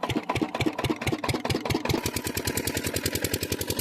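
A water pump machine engine, with its belt freshly fitted and tightened, chugs through a few uneven putts, then picks up into a rapid, even, close-up thumping run.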